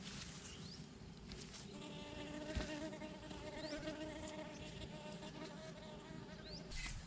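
A steady, dense insect buzz fills the scene, like bees humming continuously nearby, with a few brief chirps overhead.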